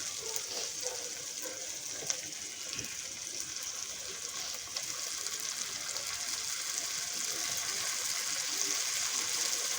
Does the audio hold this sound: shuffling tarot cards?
no